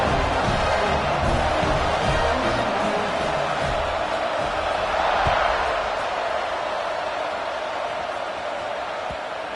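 A stadium crowd roars in an NCAA college football video game before a kickoff, a dense, loud, sustained wash of cheering that runs steadily for about ten seconds with faint thumps underneath.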